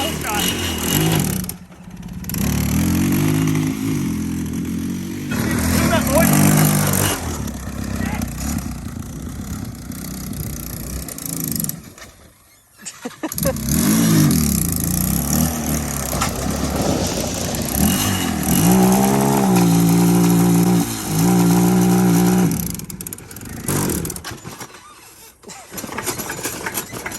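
A cheap Yamaha Blaster clone quad bike revs and idles up close, its uneven engine note rising and falling with brief cut-outs while people talk and laugh over it.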